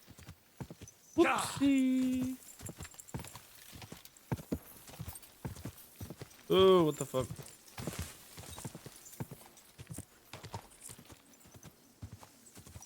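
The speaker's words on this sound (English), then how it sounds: "I must rode off with a horse that wasn't mine." Horse hooves clip-clopping in the video game Kingdom Come Deliverance 2, a steady trot running under the whole stretch, with two loud whinnies and someone talking and exclaiming over it.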